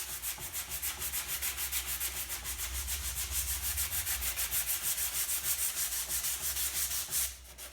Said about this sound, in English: To sand the contour smooth, I'll use the same 80 grit paper, but this time wrapped around a softer foam block.